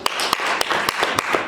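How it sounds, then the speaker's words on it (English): Scattered claps ring out from softball coaches in a seminar audience, sharp separate hits at an uneven rhythm rather than full applause, fairly near and clear. "give me a clap if you're a softball coach."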